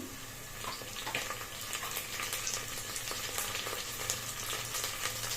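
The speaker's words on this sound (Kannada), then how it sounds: "ಈರುಳ್ಳಿ ಚೆನ್ನಾಗಿ ಫ್ರೈ ಆಗಿದೆ" Onions frying in a pan for mutton pulao, a constant dense sizzle heard close and fairly quiet, even throughout with no talk.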